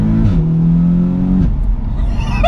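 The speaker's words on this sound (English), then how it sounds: "And it does the magical DSG fart noise as well, which is exactly what you want." Audi S3 8V with a DSG gearbox, tuned to 420 bhp, holding a steady engine drone before a gearshift brings an abrupt drop in pitch and a brief exhaust blip, heard close and loud from inside the car.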